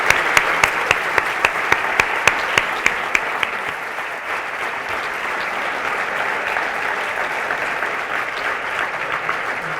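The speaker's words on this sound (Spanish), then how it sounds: "Pues señor Solana y señor Manzanares, un aplauso." An audience applauds the speakers at a talk on international politics, with steady, dense clapping that opens with a few sharper claps and then settles to an even level.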